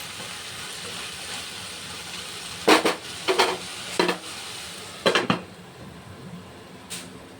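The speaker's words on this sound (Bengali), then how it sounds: "ঢাকা খুলে আবার একটু নেড়ে চেড়ে দেবো।" A pan lid clatters off and a spoon scrapes through dheki saag, fiddlehead fern greens cooked without onion or garlic, making a few distinct knocks and stirring scrapes over a soft, steady sizzle.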